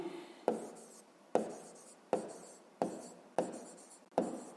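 A pen writes a math answer on paper in six firm, evenly spaced strokes, each scratch starting sharply and then fading, close and alone.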